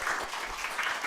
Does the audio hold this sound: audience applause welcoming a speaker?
yes